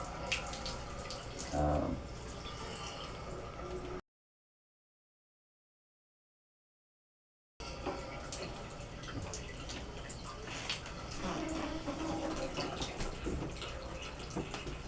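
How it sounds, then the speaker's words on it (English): Water sprays and splashes steadily inside a steam boiler during a wash out, with a dripping, running-water texture and a few brief louder surges. The sound cuts out completely for a few seconds midway, then resumes. "I like the tighter spray versus the volume of water"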